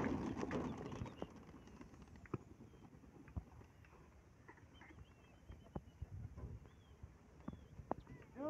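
Racing pigeons kept for long-flight contests coo faintly and intermittently, with scattered sharp clicks and light knocks nearby, in a quiet outdoor setting.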